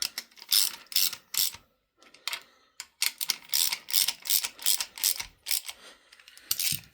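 Ratchet clicking as it tightens bolts on a 1994 Jaguar XJS V12: close, rapid bursts of sharp clicks in repeated strokes, with brief pauses between runs and no voices.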